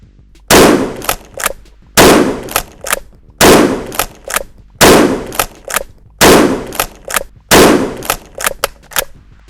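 Mossberg Maverick 88 pump-action shotgun fired outdoors, five loud booming blasts roughly 1.4 seconds apart, each followed by the clack of the pump being cycled, with no talking.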